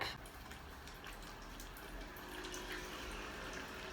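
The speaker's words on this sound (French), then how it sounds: "Je vais mettre un peu d'eau, hop." Water runs steadily from a tap during a natural facial skincare routine with soap, a soft continuous close hiss and splash with no talking.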